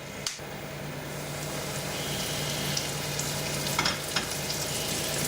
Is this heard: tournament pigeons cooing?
no